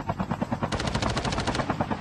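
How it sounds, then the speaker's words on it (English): Gunfire in Call of Duty Mobile: scattered shots at first, then a dense rapid burst of automatic fire rattles loudly for about a second before easing back to sporadic shots. "there's more shots out there"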